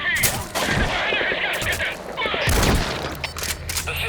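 Bursts of gunfire from Metal Gear Solid V: The Phantom Pain ring out in a loud firefight, rapid volleys and booms layered together, with voices shouting over the shooting.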